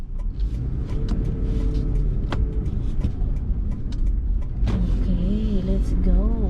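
Steady road rumble and engine drone inside a moving car in New York traffic, loud and continuous, with scattered clicks and a brief tonal whine near the end, while a person talks over it.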